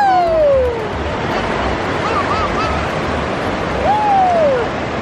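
Ocean surf on a beach washes in a steady, loud broadband rush, with wind buffeting the microphone and a few faint whistling tones over it.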